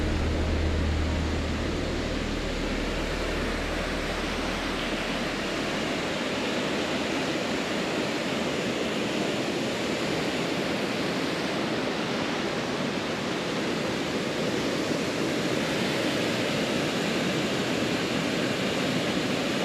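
Water pours steadily down the Stepping Stone Falls dam on the Flint River in Genesee County, a loud, unbroken rushing roar heard from close by without pause.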